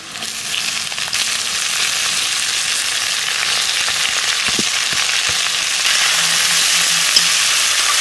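Kulekhara greens tossed into a pan of frying onion, garlic paste and potato, a loud, steady sizzle that swells as they go in, with a few scraping stirs and no talking.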